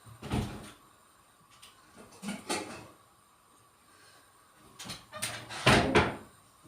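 A pot lid is moved and set half closed over rice pudding cooking on the stove, giving several close knocks and clattering bumps spaced apart with quiet gaps between them.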